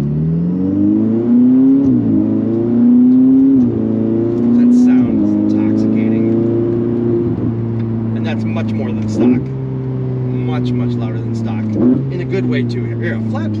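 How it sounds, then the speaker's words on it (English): A Ferrari 488 GTB's twin-turbo flat-plane crank V8, tuned, revs repeatedly, its pitch rising and dropping in waves with brief throttle blips, loud and close, steady low drone beneath. "a flat plane crank V8 is totally different than anything you hear"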